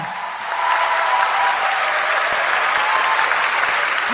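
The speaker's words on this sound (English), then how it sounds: "kindly appreciate students with huge round of applause" Sustained applause from a school award-ceremony audience, many hands clapping steadily and loudly, swelling in after a brief moment and holding throughout.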